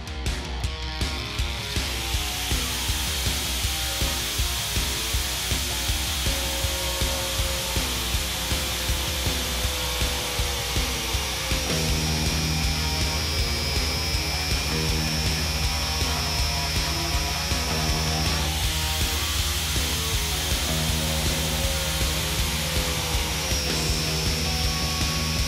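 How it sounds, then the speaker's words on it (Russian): An angle grinder whines continuously at high speed with a harsh grinding drone while friction welding two aluminium strips, holding steady for a long stretch with slight shifts in pitch. "Две полосы алюминия были сварены с помощью трения."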